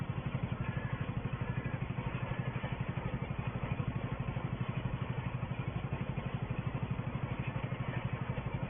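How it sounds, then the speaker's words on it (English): A tractor rolling grassland in 1964 chugs steadily at an even, low clattering beat, the engine note constant and moderately close with no voices. "It's a nice economical tractor this."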